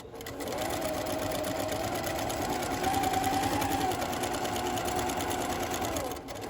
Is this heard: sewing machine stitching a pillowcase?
yes